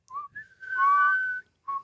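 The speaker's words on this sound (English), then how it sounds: "Can you whistle on the inhale?" A person whistles while breathing in: a short note, then a long steady tone, then another brief note, close and clear in otherwise quiet surroundings.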